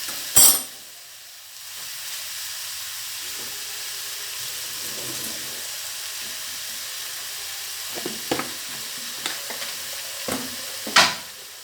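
Cabbage curry with green and red chillies sautéing in a pan, a steady low sizzle running throughout with a loud clatter near the start and several sharp spoon scrapes and knocks toward the end.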